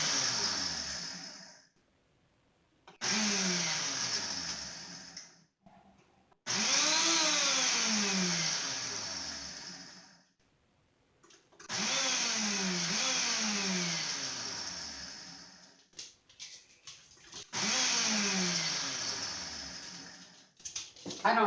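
A Ninja blender grinds dehydrated tomatoes into powder in four loud bursts, each a high whine that rises and falls in pitch as the motor spins up and winds down, separated by short pauses.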